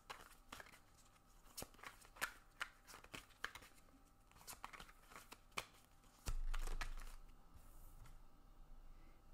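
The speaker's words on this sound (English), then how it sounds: "Let's draw some oracle cards." Oracle cards are shuffled close by, soft riffling and flicking with scattered sharp snaps and a brief low rumble of handling near the end, quiet and without speech.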